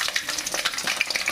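Oil frying in a pan for egg fried rice, a steady close sizzle with crackling pops throughout.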